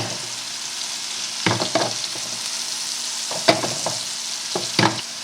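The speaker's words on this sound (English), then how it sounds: "I'm going to spoon some of this hot oil on top." Scallops sear in a hot pan while hot oil is spooned over them, giving a steady loud sizzle with several sharper bursts of spattering and clinks of the spoon as the oil is basted on.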